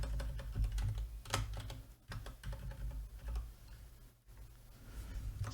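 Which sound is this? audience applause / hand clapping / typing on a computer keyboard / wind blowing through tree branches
typing on a computer keyboard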